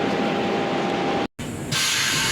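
A Vande Bharat train pulls out of Nalgonda station with a loud, steady rushing roar and hiss, broken by a brief cut before the noise resumes brighter and harsher.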